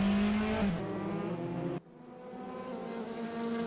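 Race cars at the Red Bull Ring in a racing sim, a loud engine note that shifts pitch, then drops abruptly and rebuilds into a steady drone.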